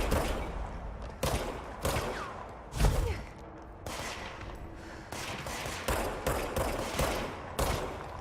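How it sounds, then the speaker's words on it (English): Gunfire in the video game Control, with repeated sharp shots in irregular bursts over several seconds, moderately loud, alongside a thump and no talking. "Who's shooting me?"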